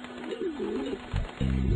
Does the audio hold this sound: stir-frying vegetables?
no